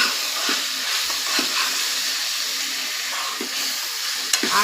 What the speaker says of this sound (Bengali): এখন আমি মশলাগুলা অনবরত নেড়ে ছেড়ে কত সুন্দর করে কষায় নিলাম